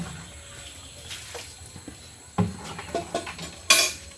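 Water from an outdoor tap spatters and splashes in a green garden setting, faint at first, then louder gushes and clattering, close by with no talking.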